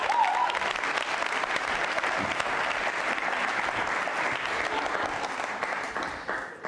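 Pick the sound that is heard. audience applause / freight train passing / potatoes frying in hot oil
audience applause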